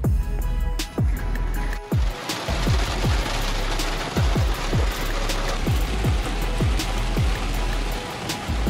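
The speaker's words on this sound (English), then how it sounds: "It is chucking down at the moment. It's just raining like crazy." Heavy rain pours down in a steady dense roar, with repeated low thumps and bumps close by throughout.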